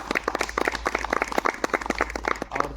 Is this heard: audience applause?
yes